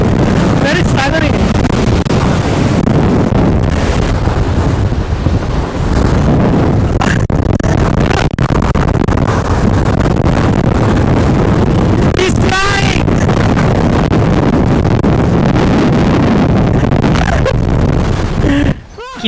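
Strong wind roars across an open viewpoint at Malico, Pangasinan, buffeting the microphone with loud, continuous rumbling gusts. Faint voices are partly buried under it.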